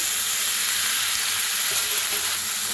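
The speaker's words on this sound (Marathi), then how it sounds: "गवारी एक मिनिटभर असंच भाजून घेऊया" Washed guar beans roasting in oil with chili powder and masala in a pan, giving a dense, even, loud sizzle that holds steady throughout with no talk.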